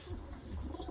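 Pigeons in a loft coo softly in low, throaty murmurs, close but faint, over a brief stretch with no talking.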